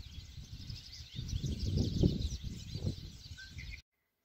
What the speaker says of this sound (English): Listen to those birds.